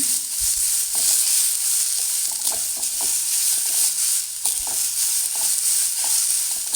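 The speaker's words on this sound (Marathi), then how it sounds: "तेल वगैरे काही टाकणार नाही आहे असंच आपण भाजून घेणार आहे" Moth beans dry-roast in a kadhai without added oil, giving a steady, close sizzle broken by scraping and stirring strokes.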